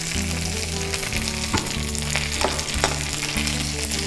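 Mint leaves sauté in oil for a mint chutney, making a loud, constant sizzle with a few sharp clicks of stirring against the pan and a low background hum.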